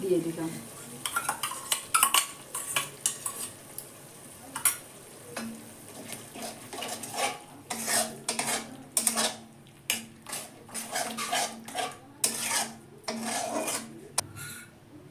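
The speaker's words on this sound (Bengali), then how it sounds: "টক দইটা দিয়ে আমি একটু কষে নেবো" Sour yogurt stir-fried in oil for a spicy fish curry: near scraping and clattering of a spatula against the pan in uneven bursts, over a soft sizzle, with brief speech.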